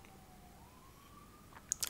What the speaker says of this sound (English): the damn police sirens are going outside